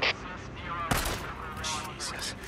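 Gunshots in the game Days Gone, a sharp loud shot near the start followed by a few fainter cracks, over faint background noise with no clear talk.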